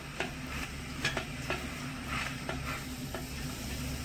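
Vegetables being stirred in a pan with turmeric and salt, a steady low sizzle under repeated scraping strokes of a spoon at a loose rhythm, close and alone without talk.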